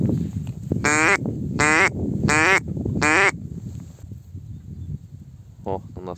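Ducks quack in a run of four loud, evenly spaced calls, then a shorter pair follows after a pause, over windy background noise, during a spring hunt with a live decoy duck.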